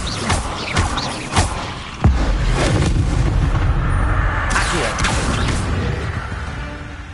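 Explosive spell blasts in the video game Hogwarts Legacy, a sharp boom near two seconds giving way to a long rumbling roar of destruction and debris, with further crackling bursts layered over dense game combat noise.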